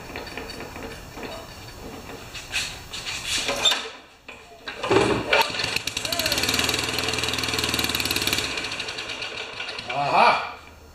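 An older Craftsman edger's small engine is pulled and cranked repeatedly, failing to catch, giving bursts of rough mechanical clatter with short gaps between attempts, loud and close.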